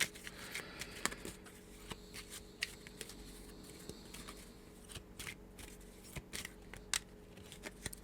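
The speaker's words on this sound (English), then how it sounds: "Got to shuffle." Playing cards shuffled by hand during a tabletop fantasy adventure card game, a run of soft riffling and clicking card bursts at close range, quiet and intermittent with a low steady background hum and no talk.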